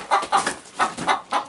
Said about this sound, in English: And the chickens are laying eggs on it.